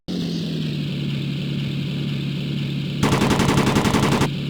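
Rapid machine gun bursts from aircraft guns in the World War II flight game Beyond Pearl Harbor: Pacific Warriors, a loud rattling volley breaking in over a steady droning engine hum and lasting just over a second.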